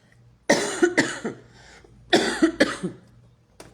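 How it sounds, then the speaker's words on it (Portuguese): A few rough allergic coughs in two quick clusters, close and fairly loud, with brief quiet between them. "estou com uma tosse alérgica"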